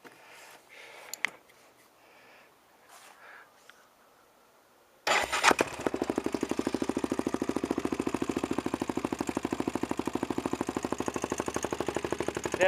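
A small engine with deliberately loose valves fires up after a few faint clicks and quiet handling, then settles into a loud, rapid, even idle with a steady ticking chatter from the valves.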